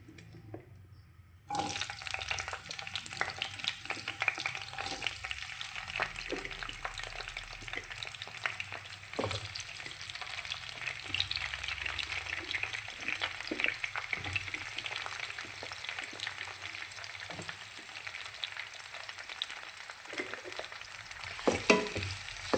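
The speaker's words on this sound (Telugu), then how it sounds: "టమాటా పచ్చిమిర్చి అలాగే ఆనియన్స్ వీటిని కూడా ఆయిల్లో కొంచెం వేయించుకోవాలి" Tomatoes, green chillies and onions fry in oil with a continuous crackling sizzle that starts abruptly and carries on, dense and steady, with occasional louder pops and stirring clatter.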